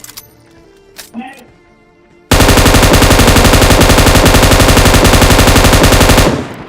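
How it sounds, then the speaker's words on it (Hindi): Machine gun fire in a video game: after a quiet stretch with a few faint sounds, a loud, rapid, unbroken burst of automatic shots runs for about four seconds and then stops abruptly. "Mori Maiya machine gun."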